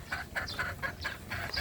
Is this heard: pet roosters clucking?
yes